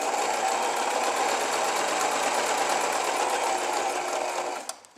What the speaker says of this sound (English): I'm just straight stitching around the edge